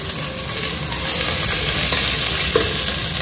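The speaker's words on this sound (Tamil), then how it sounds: "வெங்காயம் என்ன ப்ரௌன் கலரில் வந்து பொரிஞ்சிருக்கு" Sliced onions fry and sizzle steadily in a little oil in a hot kadai, a dense continuous crackle with occasional stirring scrapes, close and fairly loud with no talking.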